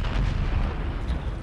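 A land mine blast in the game Brink, a heavy, rumbling explosion with deep low-end boom sustained across the short moment, loud and close.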